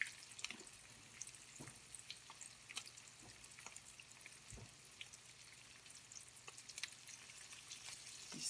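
Chicken sizzles and spits in a hot frying pan, a steady close crackle with scattered pops and drips throughout, alone with no speech.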